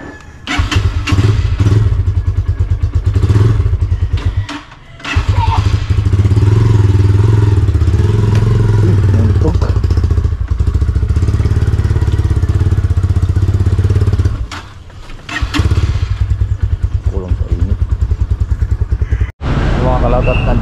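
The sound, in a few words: motorcycle engine riding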